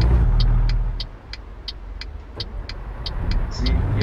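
A 1978 Scot A2 truck in American Truck Simulator idles low and steady near 1,000 to 1,500 RPM, a dull rumbling engine tone with regular clicking ticks over it, slightly dipping in the middle and swelling again at the end.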